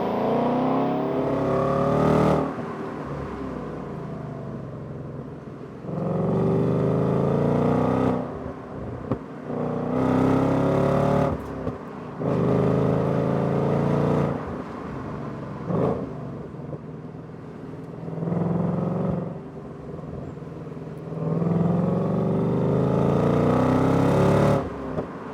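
A 2026 Ford Mustang GT with a 446-horsepower V8 revs and accelerates hard along a winding road, loud and close, in repeated bursts of rising engine roar separated by brief lifts and quieter gaps.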